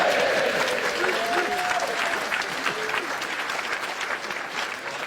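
A studio audience applauds and claps warmly, a dense sustained wash of many hands that fades slightly toward the end while a voice speaks over the start.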